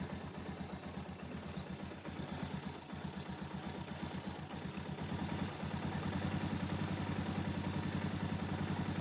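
A Suzuki DR650 motorcycle engine idles with the choke off, a steady, loud single-cylinder thump that continues evenly throughout, getting slightly louder in the second half, with no talking over it.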